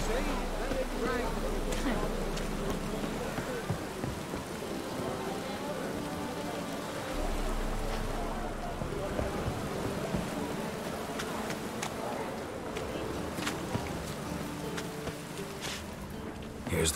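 Steady rainfall in The Witcher 3 video game patters throughout, mixed with low rumbles and scattered clicks at a moderate, even level.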